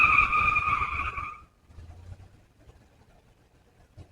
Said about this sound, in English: I guess that was somebody squealing tires.